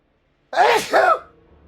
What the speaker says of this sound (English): Oh, sneeze.